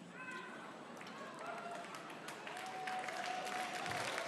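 Audience clapping at a carnival award ceremony in Aachen, a broad wash of applause heard alongside steady overlapping tones and voices, growing slightly louder toward the end.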